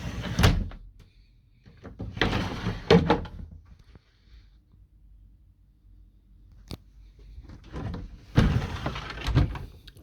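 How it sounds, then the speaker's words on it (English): Sliding cupboard doors in a 2019 Roller Team T-Line 785 motorhome rumble open and shut in a few separate bursts, with quiet pauses and a sharp knock between them. "and then you've got your sliding doors."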